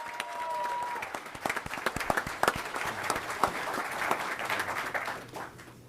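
An audience applauds at an awards ceremony as a staff member is honored for twenty years of service, a steady wash of many hands clapping with sharp individual claps standing out, fading slightly toward the end.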